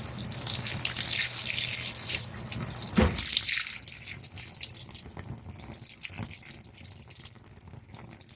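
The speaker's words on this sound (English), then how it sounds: "Looks like we're doing another rinse cycle." A Whirlpool Cabrio WTW7000 top-load washer fills with water for a rinse cycle while washing a thick queen-size comforter, a loud, steady gushing stream pouring into the tub at close range with a brief splashy shift midway.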